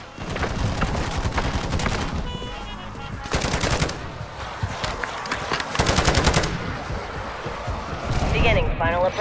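A sentry gun firing in Call of Duty Modern Warfare 3 Zombies, with loud rapid automatic bursts and repeated volleys rattling close by, while voices speak over the shooting.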